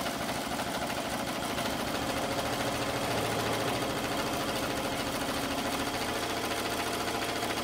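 A Haftex Mini 12-needle embroidery machine running steadily, a dense fast mechanical whir and rhythmic needle clatter, close and continuous with no talk.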